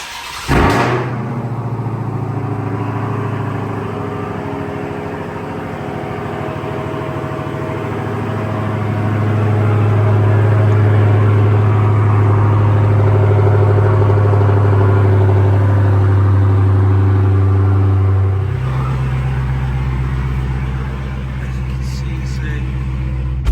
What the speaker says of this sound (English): Starts, you just press your button one time and that gets everything going.